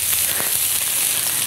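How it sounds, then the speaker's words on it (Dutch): Grill burgers fry in a pan on a home stove, giving a steady, close, even sizzle that holds without a break and has no voices over it. "Laat ik deze even een klein beetje bakken."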